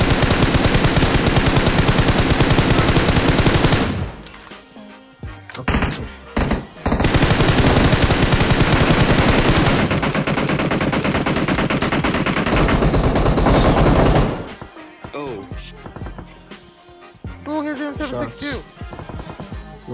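Dense, loud automatic gunfire fills a PUBG Mobile match, with long sustained bursts, brief gaps and scattered single shots near the end; a voice speaks faintly under it.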